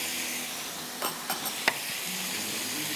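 Chicken sizzles in a frying pan after being browned on both sides, a steady hiss of hot oil broken by a few sharp utensil clicks and scrapes, with no one talking.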